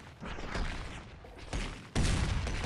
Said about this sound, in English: those big explosions are awesome